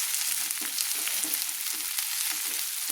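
Kochu shak (taro greens) frying with salt and turmeric, a continuous soft sizzle broken by repeated stirring scrapes of a spatula in the pan, with no talking.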